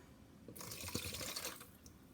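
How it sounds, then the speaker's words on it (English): Iodine solution is poured into a container for a clock reaction demonstration, a brief trickling splash starting about half a second in and lasting over a second, close but quiet, with no talking. "So I will pour the 60 mLs of iodine here."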